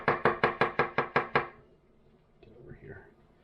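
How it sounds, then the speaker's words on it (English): Knife chopping mushrooms into ring slices on a cutting board, about seven quick, evenly spaced sharp cuts, close and loud, followed by a short quiet pause and a faint voice. "for the mushrooms, I'm just going to go up and down and get these little like ring slices"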